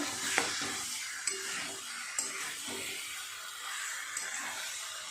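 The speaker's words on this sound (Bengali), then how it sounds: "এইভাবে এঁচোড় আলুর সাথে এই মশলাটাকে কষিয়ে নিতে হবে খুব ভালো করে" Young jackfruit and potato being sautéed with spices in a pan, a soft continuous sizzle broken by regular scraping stirs and light clinks of a spatula against metal, no talking.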